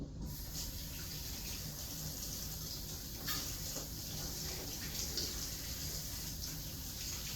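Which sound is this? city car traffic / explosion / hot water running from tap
hot water running from tap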